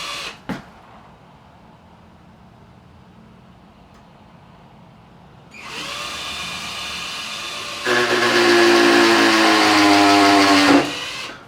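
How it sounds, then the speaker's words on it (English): Power drill bores holes into the neck of a Warwick Corvette bass, starting quietly and then revving up into a loud, high whine that strengthens, holds for several seconds and cuts off. "So I drilled about 6 holes in there"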